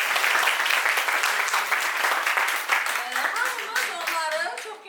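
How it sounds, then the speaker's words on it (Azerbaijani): An audience in a hall claps for two student war veterans, a dense burst of applause with voices rising over it as the clapping thins toward the end. "Birinci bunları alqışlayaq."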